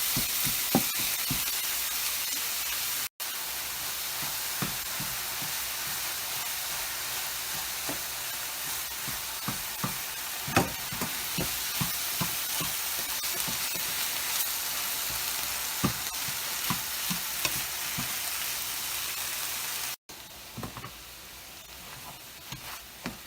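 Ground turkey fries in a non-stick pan with a continuous close sizzle and scattered crackles and spatula scrapes, the sound briefly cutting out twice; no speech.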